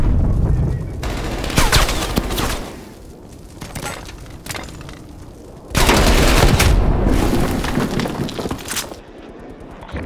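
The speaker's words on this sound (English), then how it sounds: "Multiple hostile sentry turrets working on your AO." Hostile sentry turrets firing in a Call of Duty game, with loud sustained bursts of automatic fire in two long waves, punctuated by sharp impacts and booms.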